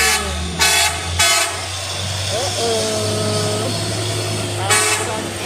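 A Hino truck sounds its horn in loud, close bursts: a few short toots, then a longer sustained blast, over a constant low engine rumble and traffic noise.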